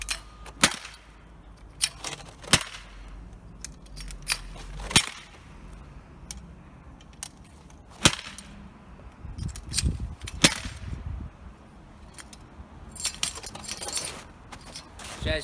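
A metal shower curtain rod struck repeatedly against an object while being tested as a makeshift weapon, giving sharp isolated clanking hits at irregular intervals with quieter rattles between them.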